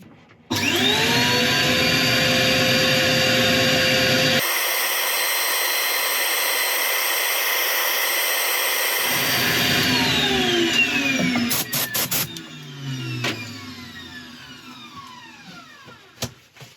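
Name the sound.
sanding a wooden bowl on lathe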